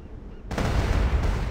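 Arrow volley attack in the MMO ArcheAge, a loud burst of dense rattling impacts that starts abruptly about a third of the way in and holds steady to the end, with no talk over it.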